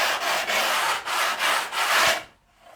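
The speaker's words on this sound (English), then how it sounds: "give it a little bit of a tickle up with some sandpaper" Sandpaper rubbed back and forth along the wooden fretboard of a Les Paul Junior guitar, five or six close, even scratchy strokes in steady rhythm before stopping.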